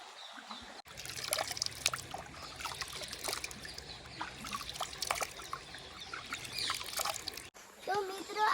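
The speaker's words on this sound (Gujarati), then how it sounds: "અહીંયા ઝરણું વહી રહી છે" A deep stream runs through dense forest below a hill near Kedareshvar temple in Mahisagar, its water rushing and trickling steadily close by with brief breaks in the sound.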